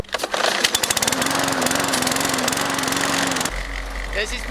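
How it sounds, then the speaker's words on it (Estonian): A lawn mower engine drones loudly and continuously behind a person talking, cutting off near the end to leave quieter speech. "mul on niidukiga taustal ei kuule hästi"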